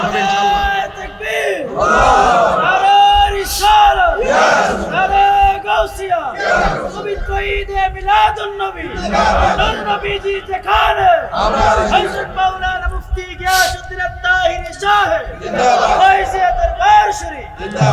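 A large crowd at an Islamic waz religious gathering chants slogans in loud rhythmic call-and-response bursts, massed voices roaring in repeated waves with a leader's shouts between them, close and energetic throughout.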